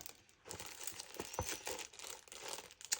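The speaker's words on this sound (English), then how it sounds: "We got to still cut this piece out." Paper being handled and cut while making junk-journal bows, soft close crinkling and rustling with faint snips, quiet and continuous.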